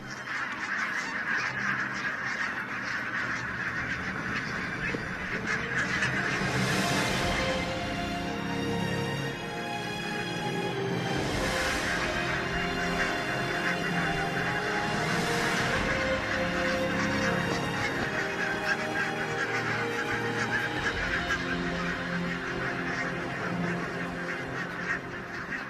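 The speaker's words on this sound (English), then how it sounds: "Barnacle geese." A large flock of barnacle geese on island farmland honks continuously, many overlapping calls forming a dense, steady chorus with a few louder nearer honks standing out.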